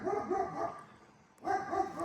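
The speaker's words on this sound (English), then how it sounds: "obviously the neighbor has a dog" A neighbor's dog barks in a couple of quick bursts, a short pause, then another run of barks, moderately close in a residential yard.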